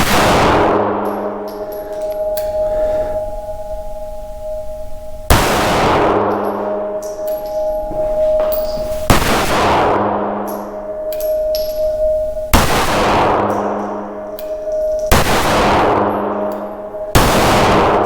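A Ruger LCP 380 MAX pistol fires outdoors, five loud, sharp reports spaced a few seconds apart, each followed by a lingering metallic ring that decays between shots.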